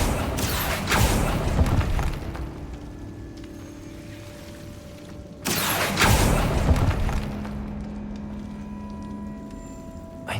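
Two booming blasts from the Confringo explosive spell in Hogwarts Legacy, the first near one second and the second about five and a half seconds in, each followed by a rumbling tail and lingering tones.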